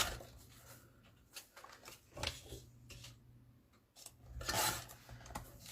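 Paper being cut to width for matting in a craft studio, with a series of crisp slicing and rasping strokes, close and fairly quiet, separated by brief pauses and light handling rustle.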